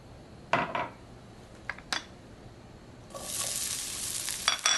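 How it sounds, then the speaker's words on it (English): Onions go into a very hot pan of oil over high gas heat, bursting into a loud, steady sizzle after a few sharp metallic pan knocks and clinks, close and with no voices. "Add our onions to get started with so that those sugars start caramelizing."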